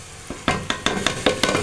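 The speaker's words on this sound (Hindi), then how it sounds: "अब हम इसके अंदर डाल देते हैं अपनी पालक जो मैंने थोड़ी सी ग्राइंड की थी" Ground spinach tipped into chicken frying in a pot for a degi-style chicken palak, giving a loud burst of sizzling with quick repeated stirring scrapes close by.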